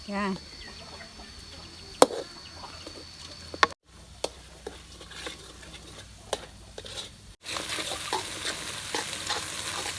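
Coconut milk and red curry paste being stir-fried in a pan, with scraping stir strokes and a steady sizzle, a few sharp clicks, and a louder burst of frying near the end.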